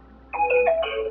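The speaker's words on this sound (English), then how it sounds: "That was my phone." A mobile phone rings close by with a short, bright electronic melody of a few rising and falling tones that starts abruptly and plays on its own.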